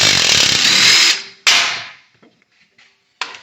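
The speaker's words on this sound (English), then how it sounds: "So here I'm going to hit the nut at the bottom of the strut." Power tool, likely an impact wrench, loosening the nut at the bottom of the strut on a 2020 Subaru STi: a loud sustained burst of about a second, a second short hit, then quiet clicks and a brief final burst.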